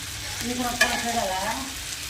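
Spices and young tamarind leaves fry in a pan for tempering, giving a steady close sizzle with light stirring and one sharp clink near the middle.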